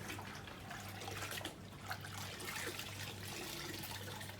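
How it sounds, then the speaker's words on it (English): Water from an outdoor shower runs in a soft, continuous trickling spray, faint and steady with no voices. "And now is when I take my shower outside."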